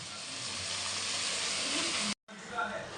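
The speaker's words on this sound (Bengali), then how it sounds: "এটা অল্প একটু ভাজি করে নেব।" Food frying in oil in a pan for a home-cooked meal, a steady dense sizzle and hiss that holds for about two seconds, cuts out briefly, then resumes with light clinks.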